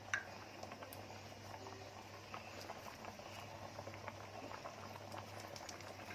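Vermicelli (seviyan) simmering in a pot of boiling water with salt and saffron, giving a steady soft bubbling and faint popping at close range throughout, with a low constant hum behind it.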